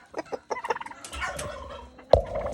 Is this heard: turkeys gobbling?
yes